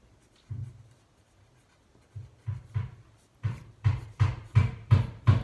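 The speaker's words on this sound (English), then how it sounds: "So I'm going to draw a quick farmhouse here." Pen scratching across paper while sketching a farmhouse, a series of short dry strokes that start sparse, then quicken into a steady run of close, firm scribbles, with no talk.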